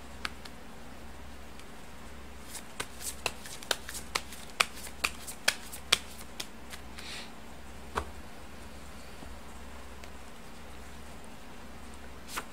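Fortune-telling cards being shuffled by hand, a run of crisp snapping riffles and taps over a low steady hum, close and without speech.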